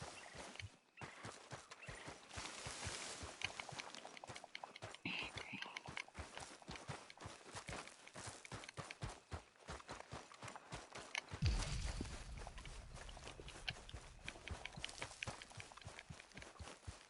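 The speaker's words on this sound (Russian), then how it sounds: "Тупая лошадь." Horse hooves clip-clop at a steady walking rhythm in Red Dead Redemption 2, close and clear, with a brief shift in the ground sound partway through.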